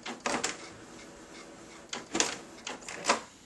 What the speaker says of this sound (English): So we're going to print that.